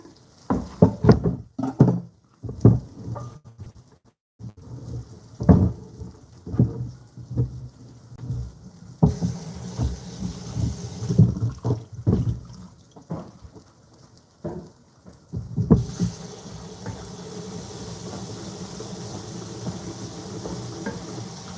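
Water runs and splashes while couscous is rinsed, with irregular bursts of pouring and sloshing and then a steadier stream of running water toward the end.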